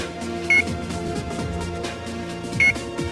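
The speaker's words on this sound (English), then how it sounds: "When powered on both sites, the ODU will start beeping according to the antenna alignment status." Short electronic beeps from a RADWIN 2000 series outdoor unit during antenna alignment, two distinct tones spaced about two seconds apart over steady background noise.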